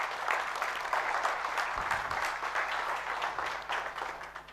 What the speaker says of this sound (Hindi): तो क्या इस प्लेटफॉर्म के लिए हम एक जोरदार ताली बजा सकते हैं?